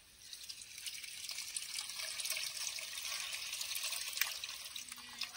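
Tamarind water pours and trickles steadily into a pot of traditional fish curry, a soft continuous liquid splash with small drips, fairly quiet and close, with no voices.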